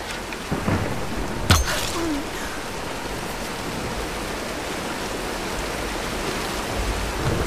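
A storm in the video game Tomb Raider (2013): steady rain hisses throughout while a sharp thunder crack hits early, followed by a low rumble, all close and fairly loud with no talking.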